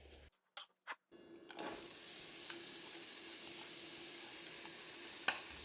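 Onions cooking down in a pan for a Thai green curry base, a soft even sizzle that starts after a few brief clunks, with a faint utensil tap near the end.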